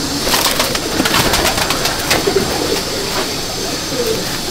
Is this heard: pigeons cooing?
yes